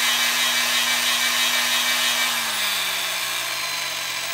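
A Makita GD0800C 1/4-inch die grinder runs steadily at low speed, a continuous close whir with a faint hum whose pitch dips slightly partway through, with no talking.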